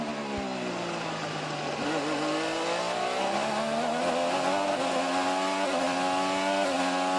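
Onboard an IndyCar race car during a pole-position qualifying lap at Laguna Seca, the engine screams loud and close, pitch climbing through gears with brief dips at shifts, no voices over it.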